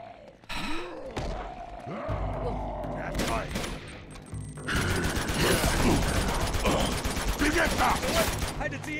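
Gunfire from Uncharted 2: Among Thieves in repeated bursts, with thuds and impacts, growing denser and louder in the second half as the firefight picks up, with a voice talking over it.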